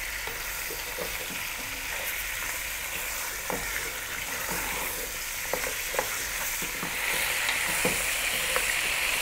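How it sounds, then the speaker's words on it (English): Pieces of lamb sizzle steadily in a pan over medium heat, with intermittent scrapes and knocks as the meat is stirred and moved around; close and continuous, with no talking. "we're going to throw this around in the pan for 5 to 6 minutes, so give it a stir every now and then"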